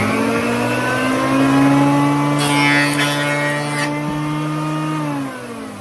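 A power sander works over the wooden outer frame of a vintage pachinko machine, giving off a loud, close motor whine with a steady pitch and brief scratchy bursts as it meets the wood, then eases off at the end.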